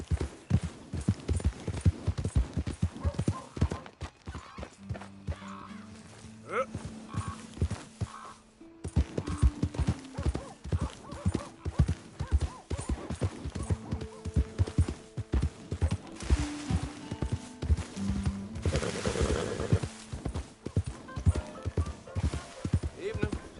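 Horse hooves clip-clop in Red Dead Redemption 2, a steady rhythmic trot running under game music and ambient sound, with people talking over parts of it.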